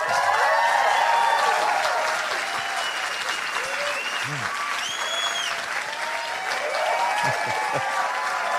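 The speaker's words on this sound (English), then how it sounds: "That was a great applause" A studio audience at a stand-up comedy show breaks into sustained, loud applause mixed with cheers and scattered whoops, and it stays strong to the end.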